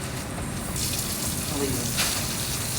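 A steady stream of water runs into a cup from a tap in a patient-care setting, a soft continuous gushing close by with a faint voice underneath.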